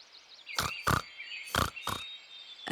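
Four short grunting oinks in an uneven rhythm, close and moderately loud, over a faint high whistling tone.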